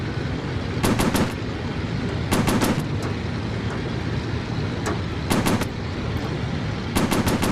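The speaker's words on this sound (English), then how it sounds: "Overheated the machine guns." Machine gun fire in the VR game Warplanes: Battles Over Pacific: short, sharp bursts repeating every second or two over a constant loud aircraft engine drone.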